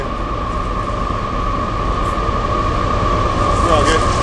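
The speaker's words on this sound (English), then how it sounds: "Oh. Coal train." Coal train rolling past outdoors, a steady, loud rumble of rail cars on track continuing throughout with a sustained mechanical hum, heard with no break.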